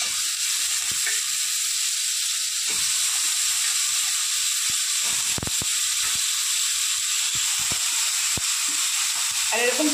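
Chopped eggplant frying in oil with tomato and onion, a loud steady hiss of sizzling oil throughout with a few sharp clicks and scrapes from stirring.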